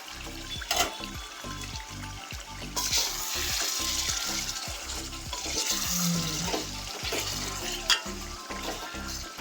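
Chicken gravy curry simmering in a pan on the stove: a steady, soft sizzle and bubbling runs throughout, with occasional brief scrapes and clinks.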